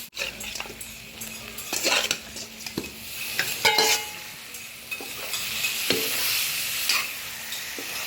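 Goat meat fried in oil with ginger, garlic, cumin, coriander and meat masala, stirred in a pan: a steady sizzle broken by repeated scraping stirs and clinks of utensil on metal, close and moderately loud, with no talk.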